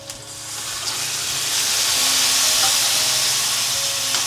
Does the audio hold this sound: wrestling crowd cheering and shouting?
no